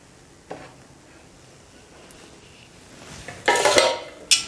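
Utensil scraping and clinking in a pot as salt and sugar are mixed into basmati rice pulao, quiet at first, then a louder burst of stirring clatter near the end with a final sharp clink.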